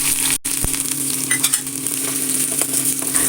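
Chopped shallots frying in hot coconut oil for a Malabar-style fish curry, a steady close sizzle and crackle with occasional faint stirring and clinks, no voices.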